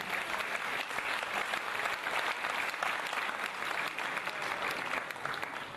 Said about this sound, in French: il est venu avec Philippe Folliot, que je vous demande d'applaudir